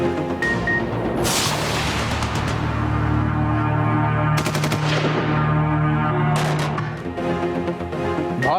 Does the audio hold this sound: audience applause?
no